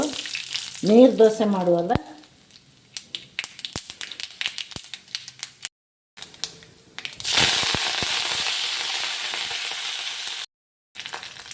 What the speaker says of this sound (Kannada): ಹಸಿರು ಚಟ್ನಿಗೆ ಒಗ್ಗರಣೆ ಕೊಟ್ಟು